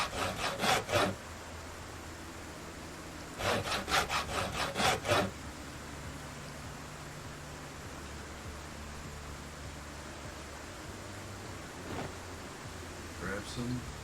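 A lumber saw rasps through logs to make planks in Project Zomboid, two quick runs of rhythmic back-and-forth strokes, about four then six, loud and close against a quiet background hiss.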